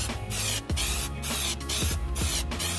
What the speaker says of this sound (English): You gotta go light on the first coat because you don't want to overspray.